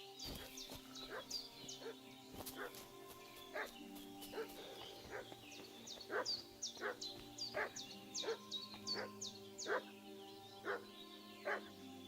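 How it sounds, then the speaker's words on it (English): A dog in the medieval game Kingdom Come: Deliverance 2 barks repeatedly in an excited, uneven rhythm, some yips among the barks, moderately distant over quiet ambient hum and a faint sustained musical tone. "What's that dog making such a fuss about?"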